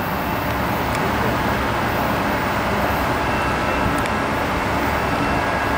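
A Coaster commuter train led by locomotive 3001 arrives with a loud, continuous rumble of wheels and engine close by, steady throughout and with no voices.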